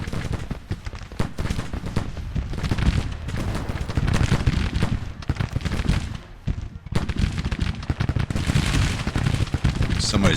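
Civil War musket volleys and artillery fire in Grand Tactician: The Civil War, a loud, crackling fusillade of overlapping shots with heavier booms, continuous with brief lulls, while a voice talks over it.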